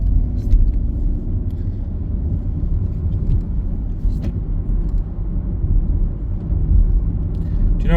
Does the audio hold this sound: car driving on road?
yes